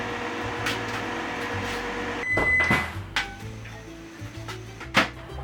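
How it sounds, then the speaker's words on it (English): A microwave hums quietly while heating butter, with a short beep and a few nearby clunks and taps. "Now I'm gonna add my butter, and we're going to the microwave."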